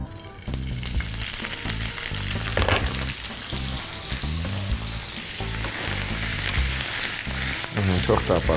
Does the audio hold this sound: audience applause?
no